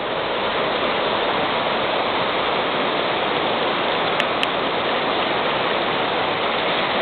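Steady, loud roar of rushing flood water fills the whole stretch without pause, broad and dense like a torrent pouring close by, near Khust in Zakarpattia.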